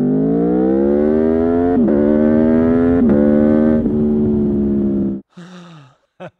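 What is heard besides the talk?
Aprilia V4 motorcycle engine revving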